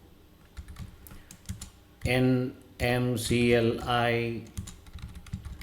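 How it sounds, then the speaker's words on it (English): Keys clatter on a computer keyboard as a command is typed in a series of quick, close taps, with a person speaking over the middle stretch. "Let me type this"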